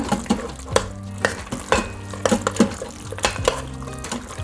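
Sour cream is stirred into a hot pan of sizzling ground beef and sauce, a spoon scraping and knocking against the pan in an uneven rhythm over a constant frying hiss, close and loud.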